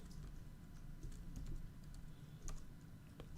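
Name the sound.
typing Linux commands on a computer keyboard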